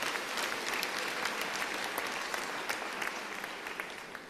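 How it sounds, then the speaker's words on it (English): Steady applause from an audience honouring teachers and principals at a matric class of 2022 results gathering, with dense, even clapping that stays fairly faint and distant throughout and no voices on top. "Can you give them a round of applause?"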